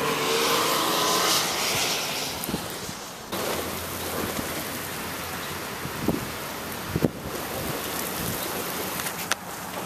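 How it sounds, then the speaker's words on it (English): Steady spring-storm rain hisses without a break, with a few faint knocks and drips in the background. "our first spring storm that we've had of the year."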